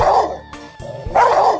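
A German Shepherd dog barks loudly and close by in two or three sharp bursts, with brief yips and a pause between volleys, while fending off attackers.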